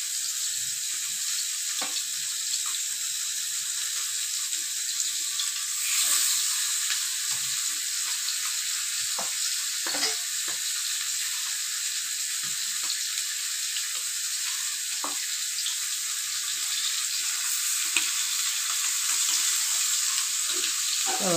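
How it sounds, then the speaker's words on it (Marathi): Mackerel (bangda) fish frying in oil on an aluminium tava, a steady close hiss of sizzling with scattered small crackles and pops running throughout, no voices. "त्याच्यावर तेल सोडू आणि मच्छी फ्राय करायला ठेवू"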